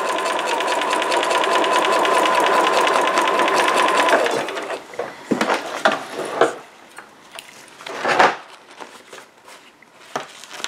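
A home sewing machine stitching fabric at a middle stitch length, running in a steady, loud, fast whir for about four seconds, then stopping and giving way to scattered handling clicks and rustles.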